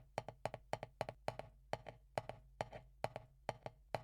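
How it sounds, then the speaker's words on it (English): Double strokes on a drum played with a fulcrum held too tight land as paired sharp taps in a steady rhythm, with each second note falling slightly early, so the pairs sound uneven and stilted. The taps are close and clear, with no talk. "and then you will get stilted doubles like this"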